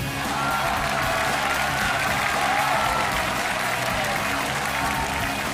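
A studio audience on a Chinese television talent-challenge show applauds to welcome a contestant to the stage, a steady, dense wash of clapping that holds at full strength throughout with faint crowd noise.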